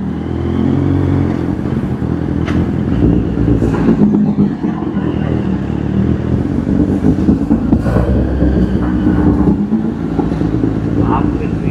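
Kawasaki Z800 motorcycle exhaust rumbling and echoing inside an underpass, a loud steady engine drone throughout with brief revs, while voices talk over it.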